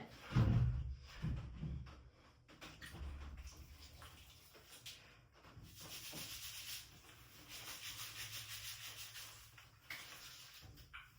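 Hands rub a small amount of styling product through wet curly hair on wash day, making soft, close, continuous rubbing and squishing sounds with a few louder thumps near the start.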